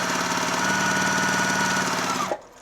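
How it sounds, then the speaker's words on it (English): A sewing machine back-stitches a seam down scrunchie fabric with the good sides together, making rapid, steady mechanical chatter that runs close and loud, then cuts off abruptly near the end. "now I'm just gonna go all the way down, back stitching, good sides together"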